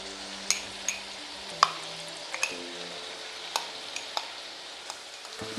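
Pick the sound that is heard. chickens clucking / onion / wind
onion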